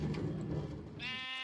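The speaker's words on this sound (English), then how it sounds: "And then over here we got the sheep farm" A single sheep bleats near the end of the clip on a sheep farm in the video game Minecraft, a clear wavering cry heard over low background game sound.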